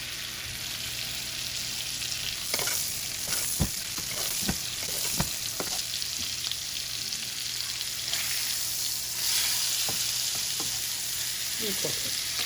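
Filet mignon sizzling and frying in butter in a pan, a steady close hiss with occasional sharper crackles and pops.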